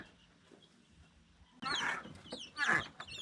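A chicken clucks in two short, loud bursts after a quiet stretch with faint background sounds, close by in a rural household setting.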